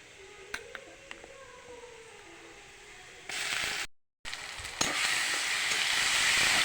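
Giant taro paste hits hot oil with chopped onions in a pan, bursting into a loud, steady sizzle and hiss after a few quiet seconds of light kitchen clatter, continuing close and unbroken to the end.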